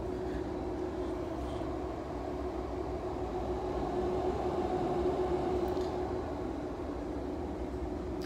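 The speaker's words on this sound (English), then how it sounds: "The Powerwalls are, it just sounds like a fan is going." Tesla Powerwall home battery with its cooling fan running, a steady broadband whir with a faint tonal hum, continuous and even for the whole stretch with no talk over it.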